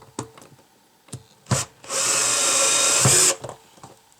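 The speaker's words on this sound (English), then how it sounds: "I'm going to go ahead and use the drill gun" A power drill drives a 10 millimeter bolt on a Wildgame Innovations Monsta D game feeder, whirring steadily for about a second and a half, bracketed by a few sharp knocks and clatters before and after.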